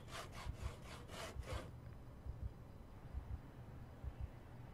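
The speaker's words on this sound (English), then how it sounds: "Saw logs." Logs are sawn in the video game Project Zomboid, a run of rhythmic rasping wood-saw strokes at first, then quieter scraping rubs and thumps, with no talk over it.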